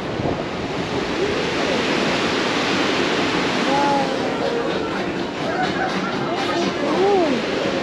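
Churning waves in the wake behind a cruise ship sailing out of Istanbul give a steady, loud rushing wash mixed with wind buffeting, while voices speak faintly in the background.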